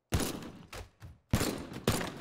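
Gunshots break furniture in Teardown: three loud, sharp blasts with crashing debris, the second and third spaced about half a second apart.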